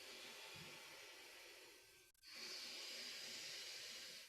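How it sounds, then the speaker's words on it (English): A slow, quiet exhalation through the nose or mouth during a clavicular yoga breath, soft and airy, with a short pause and then a gentle breath in that continues to the end. "Breathing out for 4."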